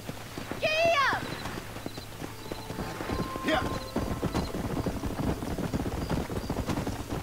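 Horse hooves clip-clop at a steady walking rhythm in the Red Dead Redemption 2 riding tutorial, close and distinct, with a whinny near the start and game dialogue and speech over the top.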